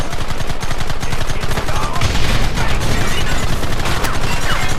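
Sustained gunfire during a Red Dead Redemption shootout, a loud, dense crackle of rapid shots running continuously throughout, with no pauses.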